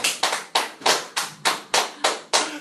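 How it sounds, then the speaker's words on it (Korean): A congregation at a Korean Bible lecture on Matthew claps together in slow unison, about nine loud, evenly spaced claps each ringing out briefly in the room. "다시 한번 박수 쳤어요"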